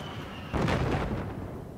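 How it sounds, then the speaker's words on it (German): In the Battlefield 4 video game, a jet fires on the player, a sudden loud rumbling burst of cannon fire and impacts that cuts in abruptly and then tails off into a low roar. "Verdammt, da schießt ein Jet auf mich."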